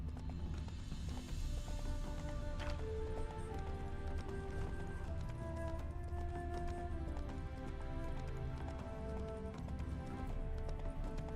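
Horse hooves clop at a trot in The Witcher 3 as the horse carries two riders along a rough path, a steady rhythm under game music and ambience, fairly quiet in the mix.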